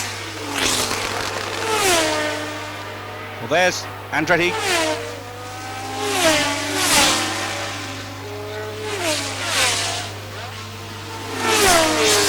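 At Dijon in 1977, Formula One race cars scream past one after another, each a rising and falling engine wail with a Doppler sweep. A commentator talks over the passes.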